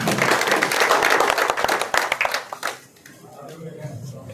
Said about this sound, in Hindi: सभी से प्रार्थना करता हूं कि तालियां बजा करके स्वागत करेंगे।